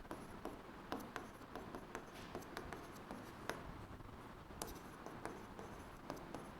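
Pen scratching across paper while notes are handwritten, a close, quiet run of quick strokes and taps with a steady irregular rhythm throughout.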